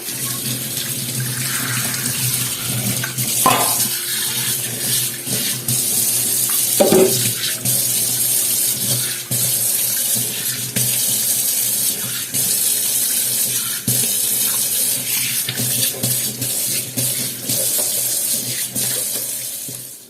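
A kitchen tap runs steadily while a kitchen sink is rinsed and washed. The water gushes close and constant for about twenty seconds, with a few faint knocks against the basin.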